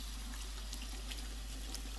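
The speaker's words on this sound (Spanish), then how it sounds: "Tenemos un grifo para lavarnos." Steady water running from a bathroom sink faucet in the video game Life Is Strange 2, a constant soft hiss of flowing water at moderate level throughout, with no talking.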